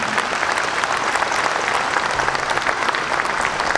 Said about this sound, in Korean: 박수 한번 보내주시면 고맙겠습니다